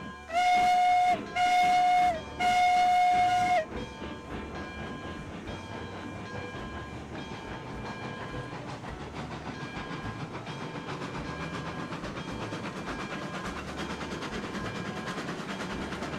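A steam locomotive in the RAILROADS Online video game sounds three long whistle blasts, then pulls away with a steady, loud chuffing and rumbling that continues under the rest of the clip.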